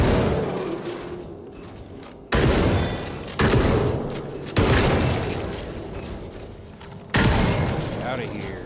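Shotgun blasts in The Forever Winter, four loud, close booming shots spaced a second or two apart, each trailing into a fading rumble under a busy background.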